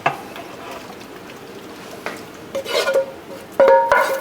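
Oxtails dropped from a wine-deglazed pan into a cooking pot, giving a few sharp clatters and a short bright sizzle against a low kitchen hum.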